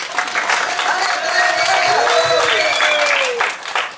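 A crowd at a film audio launch for D3 claps loudly in a sustained burst, with cheering and some tonal sounds over the applause before it tapers off near the end.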